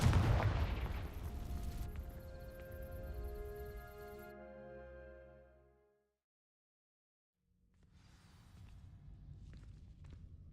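A fiery blast from the Confringo spell in Hogwarts Legacy bursts loudly, then rumbles and rings out over several seconds before a pause and quieter game ambience.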